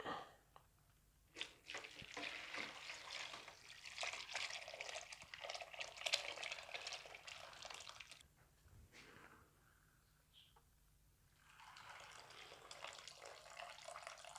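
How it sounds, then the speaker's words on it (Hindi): Beef yakhni broth strained through a sieve, a steady splashing pour of liquid that runs for several seconds, drops off briefly, then resumes more softly toward the end. "इस यखनी को हम छान लेंगे"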